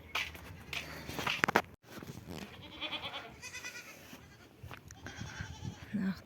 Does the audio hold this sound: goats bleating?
yes